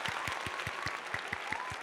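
A stream host is applauded with a brief, even burst of clapping and steady, regular thumps, moderately quiet and alone.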